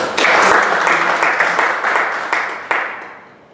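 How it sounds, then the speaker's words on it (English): Audience at a Toastmasters meeting breaks into a brief round of applause, dense clapping with a few distinct sharp claps near the end, fading out quickly. "Give a big round of applause"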